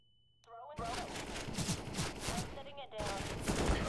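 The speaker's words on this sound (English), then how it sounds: "Really, he's shooting through the smoke" Rapid bursts of gunfire ring out through smoke in Counter-Strike on FACEIT, with repeated close shots in a quick rhythm, some short pauses, and a player talking over the action.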